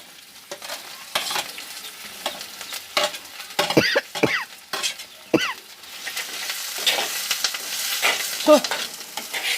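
Oil sizzles and crackles steadily in a hot pan as onions and curry leaves are stirred, with occasional louder spatters and a few brief chirps over the frying.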